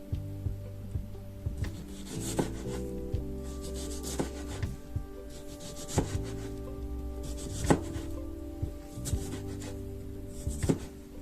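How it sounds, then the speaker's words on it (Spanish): A knife chops strawberries into small pieces on a wooden board, producing a series of distinct close knocks at uneven intervals over a soft rubbing background. "Vamos a comenzar esta receta con nuestras fresas, las cuales vamos a cortar en trocitos pequeños."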